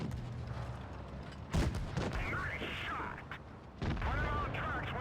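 Tank main gun shots in a tank battle game, with the Progetto 46 tank firing: two loud sharp booms a couple of seconds apart, each trailing into a mechanical rumble, with someone talking between them.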